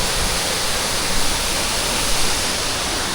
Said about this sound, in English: So beautiful waterfall.